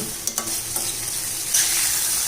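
Tomatoes sauté in a pan, a close steady sizzle with a couple of quick stirring scrapes near the start and the hiss swelling slightly toward the end.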